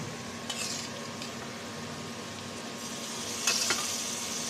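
Hilsa fish tails frying with onion and green chilli give a steady, quiet sizzle close by, broken twice by brief bursts of stirring, with no speech over it.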